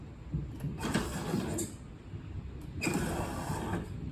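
Pop-up headlights on a Corvette C5 raise and lower twice in a row, each pass a steady electric motor whir with a soft mechanical clunk at the start and finish, heard close over a quiet background.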